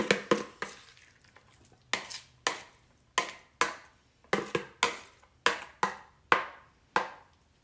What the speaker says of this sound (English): we're going to take and just dump this whole thing in a 9x13 casserole dish